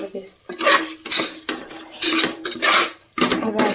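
A metal spoon stirs biryani in a pot, giving close, repeated scraping and clanking strokes in an uneven rhythm with short pauses between them.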